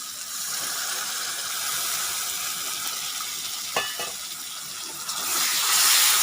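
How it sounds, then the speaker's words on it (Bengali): A splash of water goes into masala frying in a pan for a Bengali shol fish kalia, giving a steady broad sizzle with a brief sharp hiss near the end as the water hits the hot oil. "মশলাটাকে কষানোর জন্য সামান্য পরিমাণ একটু জল দিচ্ছি।"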